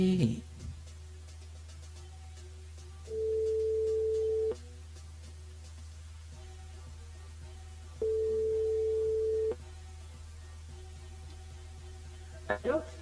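Phone ringback tone heard while calling a mobile phone: two long steady beeps a few seconds apart over a constant low hum on a live radio line.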